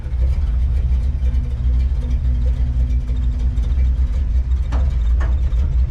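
An old car's 350 engine idling steadily after warming up, a deep, close rumble that holds even throughout with a couple of faint clicks near the end.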